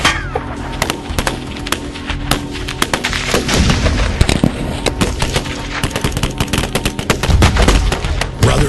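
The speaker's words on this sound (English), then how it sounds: "you cannot hide behind an I-beam when there's a 50 cal present" Heavy .50 caliber gunfire rattles in rapid bursts and sharp repeated cracks, loud and close, with booming impacts mixed in and no talking.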